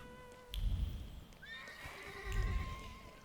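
A horse in a video game town whinnies twice over a background of hooves and faint ambient tones, each neigh loud and close with a rising, shaking cry.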